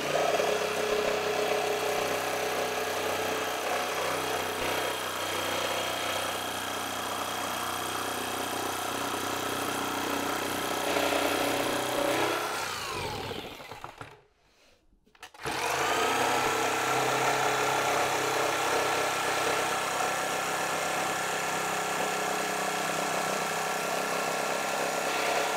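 A jigsaw cuts a custom décor prop with a continuous mid-pitched motor whine and buzz, stops abruptly for about a second, then starts again and runs steadily to the end.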